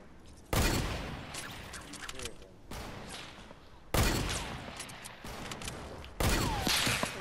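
Shooter video game gunfire comes in three loud, close bursts with quieter stretches between them.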